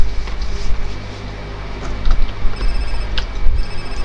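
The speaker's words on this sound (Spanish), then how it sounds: "Me voy a contestar el teléfono." A telephone rings in GTA San Andreas, with repeated bright electronic ring tones over a loud, rumbling game background.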